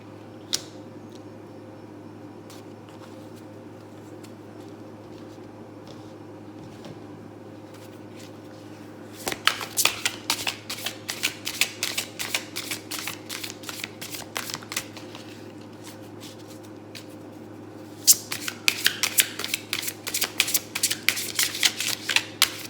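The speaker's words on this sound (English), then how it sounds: "Do a good hard shuffle." Tarot cards being shuffled in two bursts of rapid riffling flutter, separated by quieter handling and a low background hum, close up and without speech.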